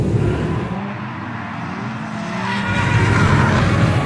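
Engine noise and tire sound from a car drifting, a steady loud rumble that swells toward the end, with no talk over it.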